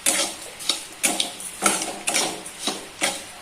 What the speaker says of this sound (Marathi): पूर्ण तांबूस कलर येईपर्यंत भाजूया याला.